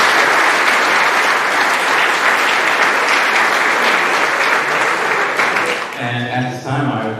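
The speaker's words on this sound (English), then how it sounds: "A round of applause for all our spring MVPs." Awards-night audience giving a long, loud round of applause for spring sports MVPs in a school hall, a thick continuous roar of clapping that fades near the end as a voice begins to speak.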